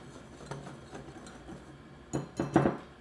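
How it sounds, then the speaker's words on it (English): Flour, baking soda, salt, cinnamon, nutmeg and cloves are whisked together in a bowl, producing a series of light rhythmic scraping and tapping strokes that grow louder and quicker near the end, with no talking. "Now I'm just going to whisk these all together."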